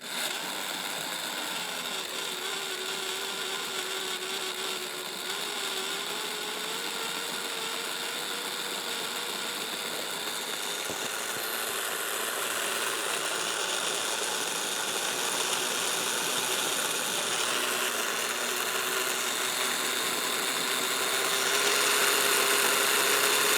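A Mantua 0-4-0 model locomotive runs on test rollers, giving a continuous thin motor whine and mechanical buzz whose pitch drifts slightly and grows a little louder toward the end, with no talk.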